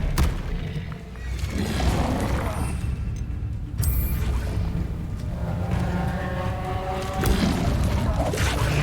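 An Expelliarmus spell is cast in the game Hogwarts Legacy, producing loud booming impacts, crashing hits and whooshing swells over continuous game ambience, with a brief bright chime midway.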